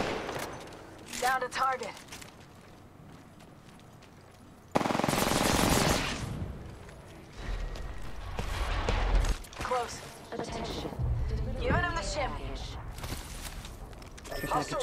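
Rapid automatic gunfire in the Apex Legends video game at Kings Canyon, dense loud bursts and sustained fusillades mixed with game sounds, with players talking over the shooting.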